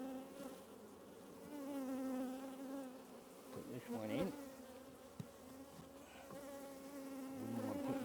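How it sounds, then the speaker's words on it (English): Honeybees buzz steadily and loudly as they are shaken off a hive frame of fresh eggs, a dense droning hum with a few scrapes and knocks of handling, and someone speaks briefly. "I'll just shake these bees off."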